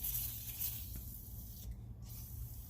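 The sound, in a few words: aerosol spray on brake rotor studs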